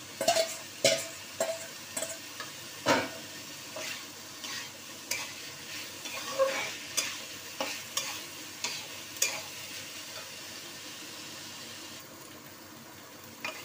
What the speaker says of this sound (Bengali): এইবারে আমি আলু আর পটলটা দিয়ে দিচ্ছি।